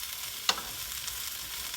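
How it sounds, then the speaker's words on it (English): Bok choy stems and shiitake mushrooms sautéing in oil in a pan, a steady soft sizzle with one brief stir or clatter near the start. "we're going to just saute this for a couple of minutes just to soften it up"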